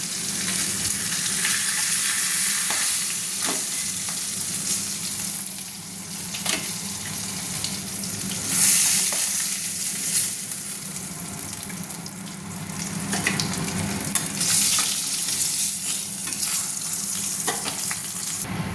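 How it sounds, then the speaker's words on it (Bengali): Fish fry in hot oil in a wok, a loud continuous close-up sizzle that crackles and swells at moments, with occasional scrapes and splashy bursts throughout. "দেখুন মাথাটা কি সুন্দর লাল লাল করে ভাজা হয়েছে"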